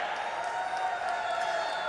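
A packed arena crowd applauds and cheers a Team Korea taekwondo performance at the 2025 FISU World University Games in Rhine-Ruhr, Germany, as a steady, dense wash of clapping and crowd noise with no single voice standing out.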